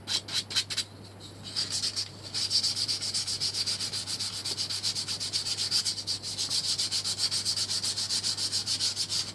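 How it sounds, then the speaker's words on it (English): Fine sandpaper rubs back and forth over a handmade pike or marker fishing float in fast, even strokes, close and scratchy, with no talking over a low steady hum. "we're gonna basically just smooth it off a little bit with the old fine sandpaper"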